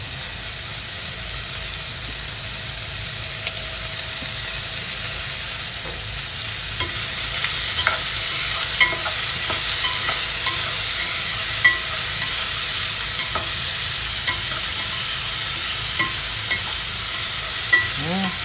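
Seedless tomatoes frying in a pan for ginisang munggo, a sautéed mung bean dish, with a steady close sizzle and scattered scraping stir clicks for nearly twenty seconds, no talking.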